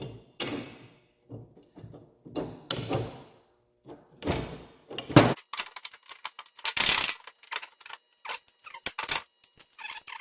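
A clamp is tightened on a rear leaf spring being de-arched to fit a 1936 rear end; a series of sharp metallic clanks, ratcheting clicks and scrapes come in irregular bursts with brief pauses between.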